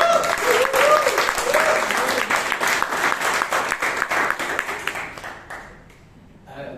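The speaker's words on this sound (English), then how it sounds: "A round of applause to Vijay." Applause from an audience at a Toastmasters club meeting in Bangalore: a dense burst of many hands clapping close by, strong at first, then thinning out and fading near the end.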